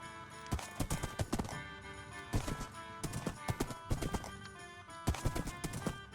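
Hoofbeats from a horse spawned in a video game clatter in quick repeating clusters, with a whinny mixed in, loud and close with no talk over them.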